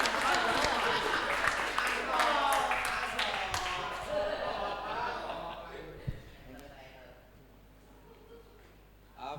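A comedy show audience claps for a performer, a burst of scattered applause and crowd noise mixed with a voice, loud at first and fading away over several seconds.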